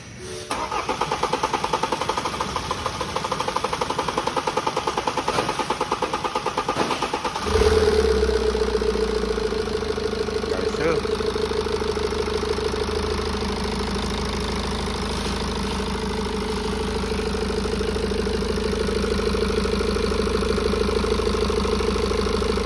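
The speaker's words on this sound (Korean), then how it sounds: "일단 무사히 시동을 걸렸고 현재 고장 코드도 없는 상태인데" A BMW F10 520d diesel cranks and catches after an engine repair, then settles into a steady, loud, even idle that runs alone for the rest of the clip.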